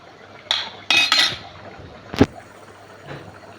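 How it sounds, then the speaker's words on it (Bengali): Metal clatter of a lid set onto a cooking pot of fish, a few close clanks and scrapes followed by one sharp ringing knock, then quiet kitchen background with a faint later tap. "তো ঢাকনা দিয়ে দিলাম।"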